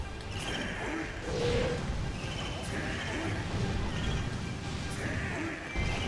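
A horse whinnies amid a busy Hyrule Warriors game soundscape, with hoofbeat-like clatter and whooshes layered underneath at moderate loudness.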